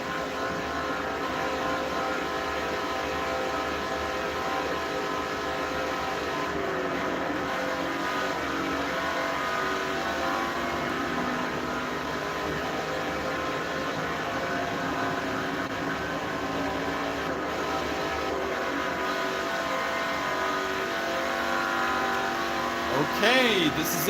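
Race car engine from Forza Motorsport 4 on the final lap, a loud, steady, continuous drone that holds for the whole stretch with only slight shifts in pitch.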